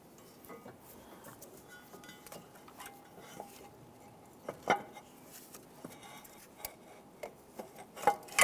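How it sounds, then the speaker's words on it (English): Metal bracket being fitted onto the engine of a 2008-2013 Nissan Rogue during valve cover replacement, heard as scattered light metallic clinks and taps over quiet workshop ambience, growing a little busier and louder toward the end. "Let's go ahead and install our bracket here."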